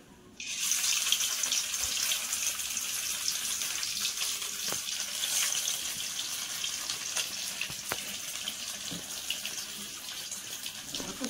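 Steamed egg pieces fry in leftover potato-frying oil in a wok, a steady close hiss and crackle that starts abruptly and holds evenly throughout with a few faint clinks, no talking.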